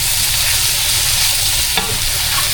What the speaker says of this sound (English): So that oil is going right down in this skillet.